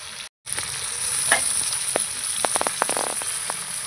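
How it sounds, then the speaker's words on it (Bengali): Meat being stirred into fried spices in a hot pan for a curry with elephant foot yam, a steady loud sizzle with scattered scraping and clicking stirring strokes, close by and with no talking. "মাংসগুলো দিয়ে দিয়েছি, এবার নাড়াচাড়া করে নেব।"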